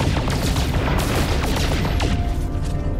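Photon cannon fire in No Man's Sky, a rapid, dense stream of loud sci-fi blasts and booms that continues without pause while the ship flies, with no talking.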